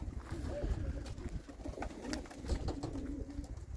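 Pigeons coo softly in low, throaty repeated calls, nearby, with some faint background rustling.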